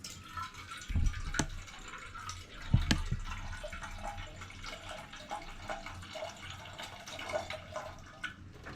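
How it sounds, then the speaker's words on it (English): Water splashes and sloshes as a basin is rinsed in an outdoor Kenyan kitchen, with a couple of sharp knocks early on and a continuous trickling wash that follows. "Let me rinse this basin so we can start."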